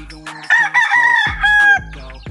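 A fighting rooster crows loudly and close, a long strained call broken into several parts, with faint clucking before it.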